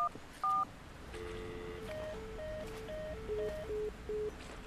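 Telephone keypad dialing tones in the indie horror video game I'm Counting to 6, a quick series of distinct DTMF beeps pressed one after another in an even rhythm, clear and close with no talking.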